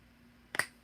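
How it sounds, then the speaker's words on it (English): A single crisp finger snap indoors, sharp and brief against a quiet room with faint background hum. "I just gotta snap my fingers"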